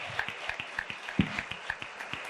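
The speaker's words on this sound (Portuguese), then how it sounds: "Uma salva de palmas." Scattered, fairly faint clapping from an audience, with irregular individual claps rather than a full roar, heard from some distance.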